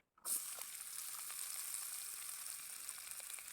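Chopped onion frying in oil on a clay stove, a steady close hiss of sizzling that starts abruptly and holds loud and even throughout with no talking.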